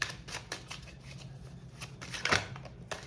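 Tarot cards shuffled and drawn, a quick series of soft riffling flicks and slaps at close range, with one sharper snap near the end and no talking.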